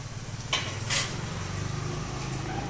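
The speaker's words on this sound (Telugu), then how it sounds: "ఇవన్నీ బాగా కలుపుకోవాలండి. సగ్గుబియ్యం అన్నీ కలిపినట్టు బాగా కలుపుకోవాలి." A spoon stirs a sago and mango dessert with cashews and raisins in a bowl, soft clinks and scraping with a couple of sharper taps, quiet and close.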